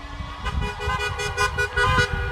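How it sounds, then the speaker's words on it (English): Several car horns honking at a street protest, repeated toots overlapping in an irregular rhythm against traffic noise, fairly loud. "A lot of horns honking."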